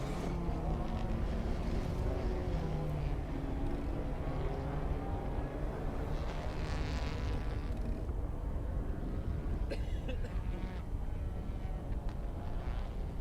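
Touring cars of the TCR South America series run a formation lap at San Juan Villicum, a steady broadband engine drone with passing cars rising and fading throughout, no voices.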